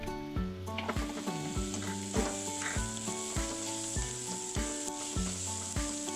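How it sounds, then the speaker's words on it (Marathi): Garlic and ginger sizzle among onions in a pan for vegetable fried rice, with a steady hiss and rhythmic scraping stir strokes about twice a second, close and clear, and no talking. "हे लसूण आणि अद्रक आहे ते पण ह्याच्यात घालते मी"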